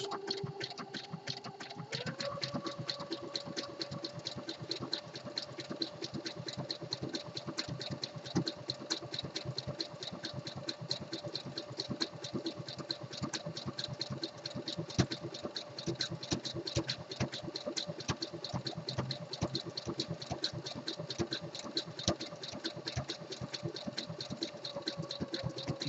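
A home sewing machine runs steadily, stitching a sewn-in elastic waistband onto boxer briefs. After a short start it settles into a continuous close mechanical hum and rapid needle patter that lasts throughout, with no talking.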